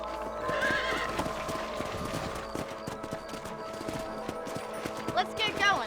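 Horse hooves clip-clop in a busy, uneven rhythm in Red Dead Redemption, with a horse whinnying briefly near the end amid background game sounds.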